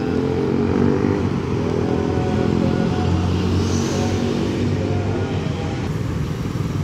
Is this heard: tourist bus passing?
yes